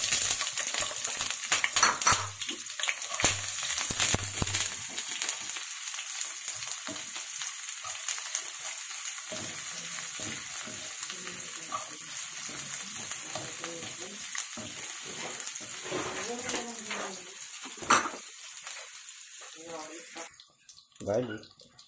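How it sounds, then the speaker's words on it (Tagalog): Chopped onions go into a hot pan for beef mechado and fry with a steady sizzle, stirred now and then with scraping utensil clinks, while a person talks over the cooking. "lalagay ko na tong sibuyas"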